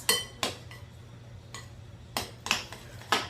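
A spoon clinks against a pot while taco soup ingredients are stirred with salt and pepper, about eight sharp metallic taps at an uneven pace over a steady low hum, with no talking.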